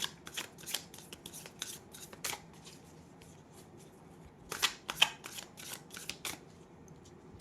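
Love oracle cards being shuffled for a reading, giving repeated soft riffling bursts with brief pauses between them, close and quiet, with no talking.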